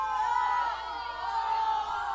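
A large crowd at a girls' softball regional playoff game between the Cedar Creek Lady Cougars and Riverside, a steady roar of many distant voices cheering and shouting throughout.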